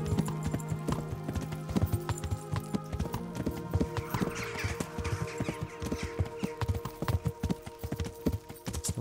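Horse hooves clip-clop in a steady trotting rhythm in the video game Kingdom Come: Deliverance, with a brief whinny and soft background ambience.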